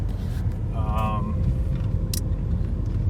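Interior of a Fiat 500 Abarth on the move at night, a steady low engine and road rumble throughout, with a brief tonal chirp and a short click partway through.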